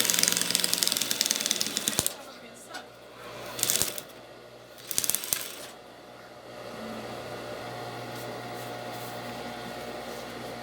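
A home sewing machine in poor condition runs a stitching line, its steady mechanical whirr and rattle rising after a few louder bursts and stops, with occasional clunks along the way.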